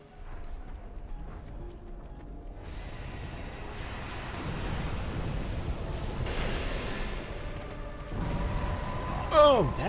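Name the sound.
explosion attack by a boss in the video game Dark Souls 2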